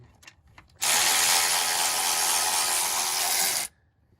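A power impact tool or drill runs in one steady, loud burst of about three seconds, backing a bolt out of an engine bracket on a damaged 6.0 engine, with a few light metallic clicks before it starts.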